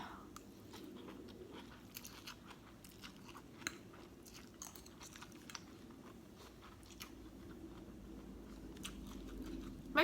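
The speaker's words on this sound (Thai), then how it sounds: "วันนี้กินวันนี้อร่อย วันนี้แซ่บมากยำวุ้นเส้น" Someone eats glass noodle salad with fish balls and dried shrimp up close, with quiet, irregular crunchy bites and soft chewing over faint room noise and no talking.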